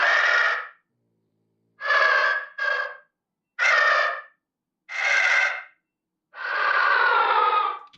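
French bulldog snorts and grunts, processed into Resident Evil 2 Licker creature sounds: six loud, raspy, breathy bursts with short gaps, the last one longest, heard alone.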